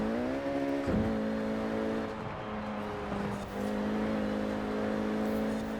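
Renault Clio RS 197 engine in the racing game Forza Horizon 4, a steady droning note that dips sharply at a gear change, then settles and rises again, loud and close with no talk over it.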